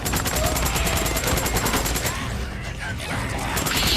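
Rapid automatic gunfire in the video game Days Gone, a dense stream of loud, evenly spaced shots with a short pause midway before firing resumes, dominating the mix.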